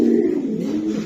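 A cream-bar female racing pigeon coos close by, a single low throaty rolling call that swells and fades over about a second, loud and alone.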